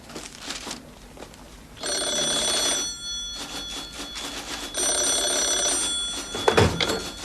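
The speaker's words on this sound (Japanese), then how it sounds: "ヤンさん、電話ですよ。" A telephone bell rings in two long bursts with a pause between them, loud and close, with a faint thump near the end and nobody talking over it.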